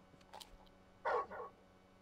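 A dog in Final Fantasy 16 gives two short, close barks a moment apart, preceded by a few faint yips against a quiet background.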